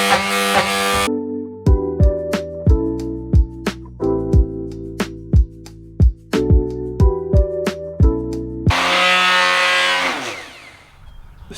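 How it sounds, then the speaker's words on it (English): A cheap orbital sander with a 100 grit disc runs on wooden wall shelves in two short bursts, a loud whirring grind at the start and again near the end, with tonal music notes filling the quiet stretch between. "I got my orbital sander and I bought some, what is this? 100 grit sanding disc"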